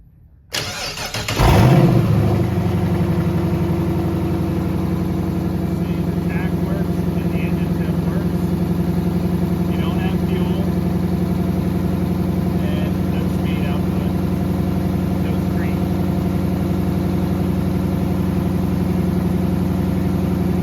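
A Hemi-swapped Dodge engine cranks briefly and fires up, then settles into a steady, close idle that runs evenly throughout with no further change.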